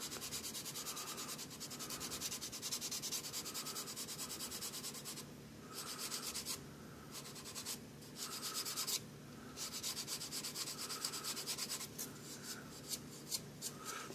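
Steady back-and-forth rubbing of fine sandpaper on a small plastic scale model car body, close and quiet, in strokes separated by brief pauses.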